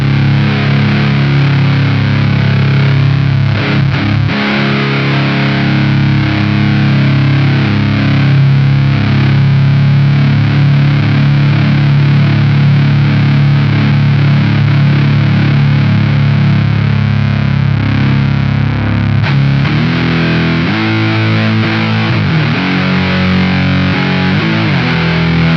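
An electric guitar runs through a Mooer GE200 with a compressor and a light digital delay at 30 feedback plus a noise gate, producing a loud, continuous, saturated stream of sustained notes and chords with smooth echo trails.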